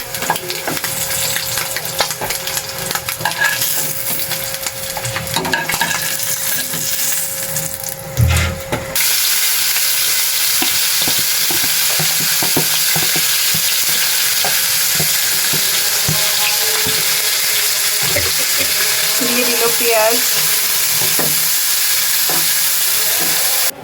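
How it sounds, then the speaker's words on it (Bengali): Eggs fry in a pan, with a continuous loud sizzle and crackle running steadily throughout, broken by occasional stirring and scraping, with no talking. "ডিমগুলো ভাজা হয়ে গেছে এখন হচ্ছে ডিমগুলো উঠিয়ে নিচ্ছে"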